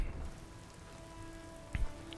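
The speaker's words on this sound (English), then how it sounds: "It is still raining." Steady rain falls in the open-world game Skyrim, in the Dragonborn expansion on Solstheim, a soft continuous patter with a brief low thump near the end.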